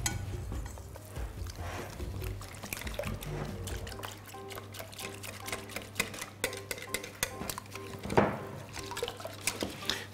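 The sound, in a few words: stirring crepe batter until lumps disappear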